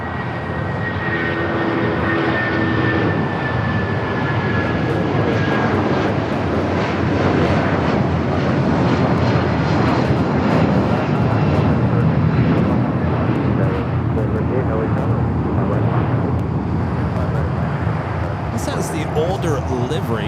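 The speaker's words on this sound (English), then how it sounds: "Airbus A220-300 touching down here as we have a United 757-200 next takeoff" Jet engines roar loudly and continuously at LAX as an Airbus A220-300 lands and a United 757-200 takes off, a broad rumbling wash with wind buffeting the microphone throughout.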